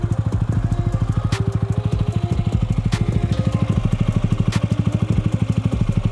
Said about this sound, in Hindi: अभी भी मेरे बाइक में चेन नॉइस हो रहा है।